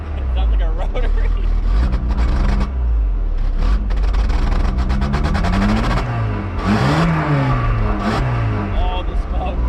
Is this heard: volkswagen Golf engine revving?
yes